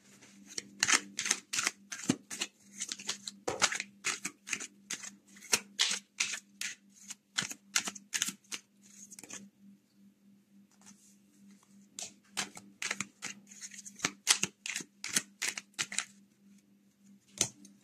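Tarot or oracle cards being shuffled by hand for a reading, with quick crisp riffling clicks in repeated bursts and short pauses between them, heard up close and fairly quiet over a faint steady hum.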